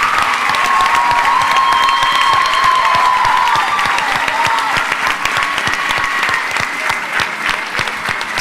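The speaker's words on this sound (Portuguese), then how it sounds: "Você poderia dar uma forte salva de palmas para essa equipe?" A church congregation applauding the ministry team, loud sustained clapping filling the room for several seconds with a held tone beneath it early on.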